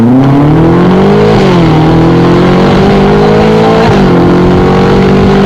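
Loud, close Ferrari engine revving hard, its pitch climbing and dipping as it accelerates, with no speech.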